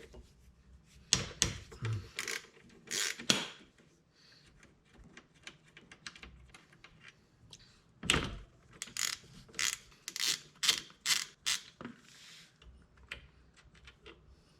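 Ratchet wrench clicking in quick bursts while 12mm caliper bolts are loosened on a Kawasaki Brute Force 750 ATV brake, close by, with pauses between rapid runs of ticks.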